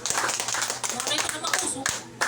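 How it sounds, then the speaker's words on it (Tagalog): A church congregation at a Sunday worship service claps loudly, a dense, continuous patter of many hands with voices mixed in. "Malakas na palakpak."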